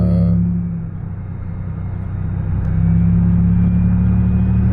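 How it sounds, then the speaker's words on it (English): A Chevy Impala LT 3.9L V6 with a straight-pipe exhaust rumbles steadily nearby with a deep, throaty exhaust tone, swelling louder toward the end as it revs. "I ain't never got pulled over for having a loud exhaust"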